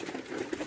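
Pigeons cooing softly at a pigeon farm in a brief, close burst with a low murmuring coo over a busy background.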